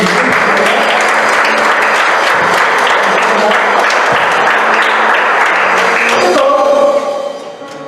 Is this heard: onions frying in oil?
no